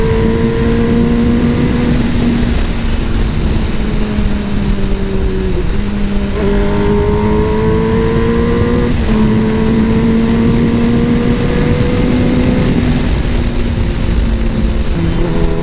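A heavy motorcycle ridden fast with a riding group produces a loud, steady engine drone close by. Its pitch climbs and then drops several times as the gears change, with continuous wind and road rumble underneath.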